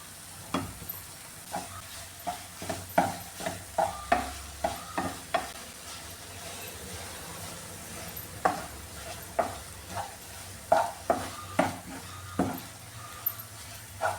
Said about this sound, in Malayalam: ഞാൻ ഇതിലിട്ട് നന്നായിട്ടൊന്ന് വരട്ടി എടുത്തിട്ടുണ്ട്